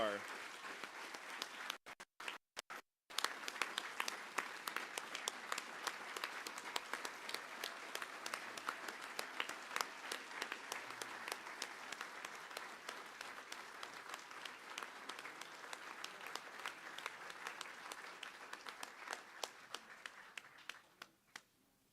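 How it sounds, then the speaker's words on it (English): A final round of audience applause closes the Ohio Veterans Hall of Fame induction ceremony, steady dense clapping after a brief dropout near the start, sustained and moderately distant before thinning out at the end. "Let's conclude today's ceremony with a final round of applause for the 2020 Ohio Veterans Class of 2024."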